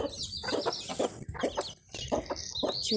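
Muscovy ducklings and turkey poults peep and chirp busily together in a box at close range, a dense overlapping chatter of high calls.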